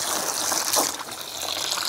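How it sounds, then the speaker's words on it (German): Stale water runs out of a garden hose before it is connected to a camper van's fresh water tank, a steady, close splashing gush that fills the short moment without pause. "lasse erstmal das alte Wasser, was im Schlauch ist, rauslaufen"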